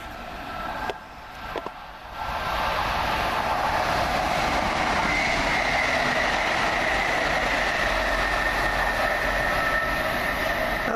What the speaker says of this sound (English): I think that's the Middlesbrough Piccadilly service